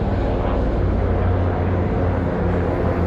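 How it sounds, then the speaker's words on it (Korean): Military aircraft and helicopters flying near Seongnam Air Base produce a continuous low, heavy rumble that stays loud and steady throughout, with no voices over it. "제가 한 30-40분 동안 10대 정도 되는 군용 비행기하고 헬리콥터가 달렸는데 지금 이 정도 소음입니다."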